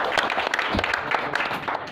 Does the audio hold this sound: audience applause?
yes